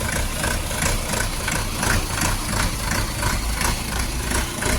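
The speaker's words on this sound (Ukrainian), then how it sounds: "він так підрохкує, трошки підрохкує, а потім гарно працює" A small tractor engine idles steadily nearby with a rough, slightly knocking chug, loud and continuous with no voices.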